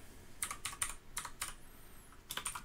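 Quiet, close bursts of typing on a computer keyboard, a few quick clusters of key clicks separated by short pauses.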